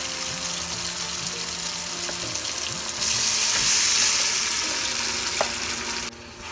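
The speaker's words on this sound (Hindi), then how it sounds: "अभी हम इसमें ये जो मैरिनेटेड चिकन है ये ऐड कर देते हैं।" Marinated chicken hits a pan of sizzling tomato masala for Kolkata-style chicken kosha, a loud steady fry that surges brighter midway, with light stirring scrapes and no talking.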